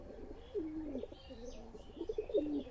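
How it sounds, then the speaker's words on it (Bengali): Pigeons coo softly and repeatedly at close range, rolling low calls with a few faint chirps in between. "এই যে দেখেন একদম তোতা শেপের একটা কবুতর"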